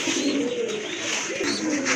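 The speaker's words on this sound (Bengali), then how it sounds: "আরেক জোড়া কবুতর হাফ সান গ্রিজেল" A pair of half sun grizzle pigeons coo near at hand, low throaty rolling calls repeating over a constant broadband hiss.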